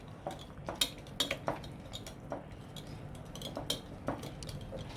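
Butter-based butterscotch cookie dough beaten in a bowl, heard as quiet, irregular scraping taps and clinks of a utensil against the bowl, faint and close, with no talk.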